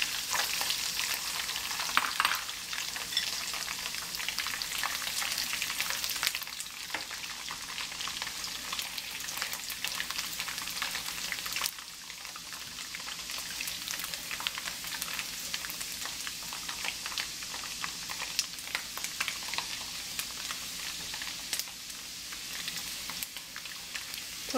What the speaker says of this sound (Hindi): थोड़ी देर तक हमने बादामों को फ्राई कर लेना है